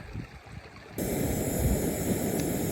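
Water flowing in a stream along the Pacific Crest Trail, a sudden steady rushing wash that starts about a second in and continues loud and unbroken, with light wind noise beforehand.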